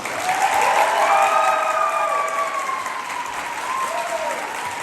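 Sustained applause from an audience at a school farewell evening honoring teachers, loud and steady throughout, with a faint voice briefly rising above the clapping.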